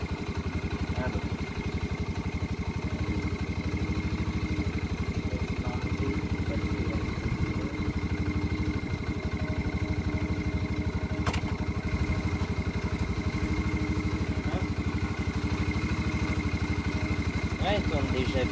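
A motorcycle engine running steadily close by, a constant low idling rumble throughout with occasional faint clicks.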